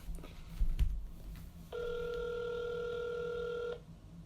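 Outgoing phone call ring tone, a sustained electronic ringback buzz lasting about two seconds and then cutting off, with a few low thumps and room noise before it and no talking.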